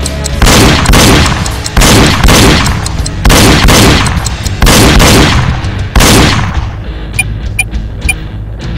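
Gunshots fired at targets in the Wii shooting game Reload come as six loud, evenly spaced blasts, each with a sharp attack and ringing decay, followed by softer electronic chimes at the end.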